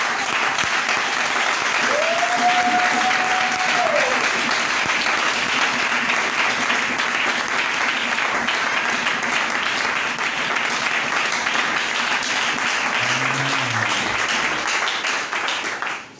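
A church congregation breaking into sustained applause, dense steady clapping that fills the space for about fifteen seconds before fading out, with a brief voice heard underneath.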